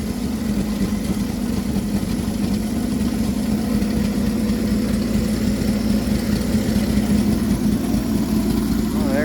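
A 1960 Chevrolet Bel Air V8 idles steadily up close, a continuous low rumble with an engine fan whirring, holding even throughout.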